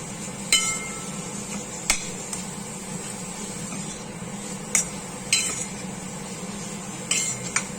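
Grated fresh coconut is being roasted in a pan over low to medium heat, stirred constantly. A spoon scrapes and clanks against the pan in several sharp knocks over a soft low background.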